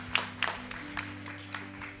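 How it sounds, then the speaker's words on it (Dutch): Sparse, faint hand claps in a church congregation at an anniversary service, a handful of scattered claps trailing off over a low steady hum. "Nog één groot applaus"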